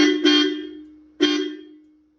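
Two short blasts of a Hero Splendor motorcycle horn, each a bright nasal tone that sounds sharply then fades, about a second apart.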